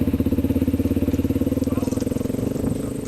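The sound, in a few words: Honda XR motorcycle with 440 kit and cam, engine exhaust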